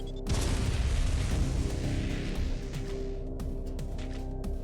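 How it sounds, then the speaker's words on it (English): A power bomb detonates in the Metroid fan remake AM2R, a loud deep boom followed by a sustained roaring rumble that slowly settles over several seconds, with no voices. "Let's power bomb it."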